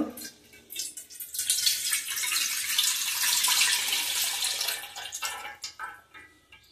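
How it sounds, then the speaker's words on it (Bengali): Milk strained through a sieve while making crisp rose-shaped pitha at home, a steady close liquid pour rising to a continuous splash for several seconds and then thinning out near the end. "দুধটা ছাঁকনি দিয়ে ছেঁকে নেব।"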